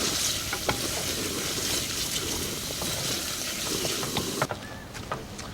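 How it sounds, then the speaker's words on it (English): Diced onion and garlic sautéing with wild boar bacon sizzle steadily up close, with stirring scrapes and light clinks over a constant frying hiss, no talking. "We're just going to add our diced onion and saute them until they're translucent, as well as a little bit of our minced garlic."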